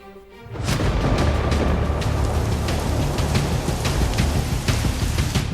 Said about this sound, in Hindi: लाहौर में मूसलाधार बारिश से जल थल एक